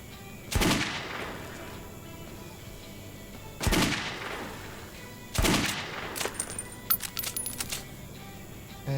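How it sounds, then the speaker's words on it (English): Three single gunshots ring out at a shooting range in the game Metro 2033 Redux, evenly spaced a few seconds apart. Each crack is loud and sharp and trails off in a short echo, followed by light metallic clinks. "I just want to shoot."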